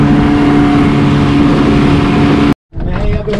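A motorboat on the open sea roars at close range with a loud, steady engine drone and rushing water, then cuts out abruptly for a moment before the engine noise returns.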